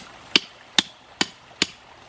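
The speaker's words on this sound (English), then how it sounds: "And you just want to hammer" Four evenly spaced hammer blows drive a loose pond net stake back into the ground, each a sharp thud, close and alone.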